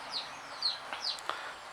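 Young bantam chicken giving a quick run of short, high clucks and chirps, close and fairly quiet, with no other sounds around.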